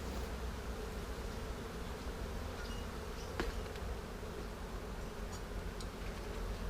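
Honey bees swarm around an opened beehive during a frame inspection, and their buzzing makes a soft, continuous drone with a few faint ticks. No one speaks.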